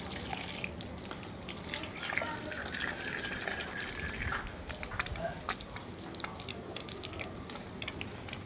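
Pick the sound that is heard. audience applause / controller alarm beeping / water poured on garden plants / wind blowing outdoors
water poured on garden plants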